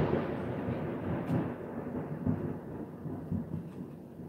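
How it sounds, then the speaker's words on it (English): Thunder from lightning striking woods across a road during a rainstorm, a low distant rolling rumble with soft repeated booms over steady rain noise, no talk. "that's lightning, yeah. And it's hitting over in the woods over across the road"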